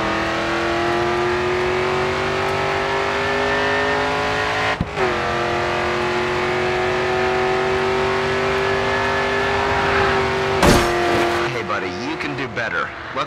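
A race car engine in the Grid 2 racing game holds at full throttle, a loud steady droning whine that climbs slowly in pitch. It drops out briefly midway and bursts roughly near the end, with someone talking over it.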